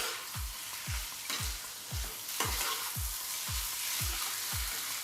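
Potol posto, pointed gourd with potatoes in poppy seed paste, frying in a pan over a medium flame: a continuous hissing sizzle with a regular series of about eight soft, low stirring strokes.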